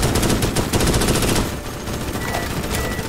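Loud automatic weapon fire in a video game rattles in fast, dense bursts, easing slightly midway but continuing as a steady barrage, with no talk.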